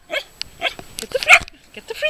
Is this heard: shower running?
no